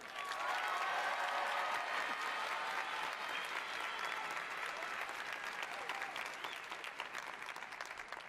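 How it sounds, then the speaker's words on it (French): A crowd at a French stand-up comedy show breaks into thick, continuous applause, loud at first and easing slightly as it goes on. "j'espère que vous aurez un tonnerre d'applaudissements pour lui"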